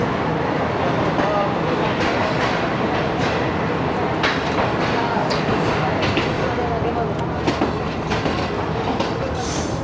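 The Awam Express pulls out of Mehrabpur station on the Hyderabad to Rohri line, heard from inside an AC Standard coach. A loud, continuous rumble and rattling clatter of wheels on track carries steadily throughout, with sharp metallic clicks scattered through it.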